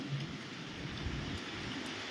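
Summer rain falls steadily in Okhamandal, Dwarka, during a thunderstorm, a soft continuous hiss with a faint low rumble beneath, heard from a distance without voices.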